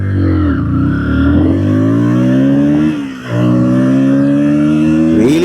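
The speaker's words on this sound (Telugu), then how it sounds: "రివింగ్" A KTM Duke 160 motorcycle engine revs hard and close up, pitch climbing in long sweeps, dipping briefly between pulls, then spiking sharply again at the end, with no talking over it.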